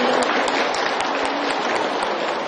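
An audience at a Ramadan talk session breaks into applause, a dense, even patter of many hands clapping close by, loud and sustained throughout.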